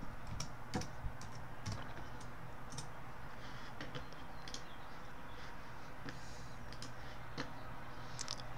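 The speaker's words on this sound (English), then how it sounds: "Next, type the word make." Keys clicking on a computer keyboard, typing a short word while installing a C and C++ compiler in Windows 10; quiet, close-up irregular taps spread across the stretch with no talking.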